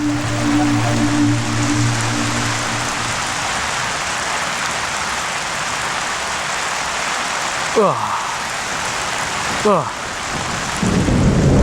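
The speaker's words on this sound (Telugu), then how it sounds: "వర్షం ఇంత పెద్దగా పడుతుందే." Heavy rain pours steadily on surfaces near a school, with two sharp thunder cracks partway through, loud and close over the constant downpour.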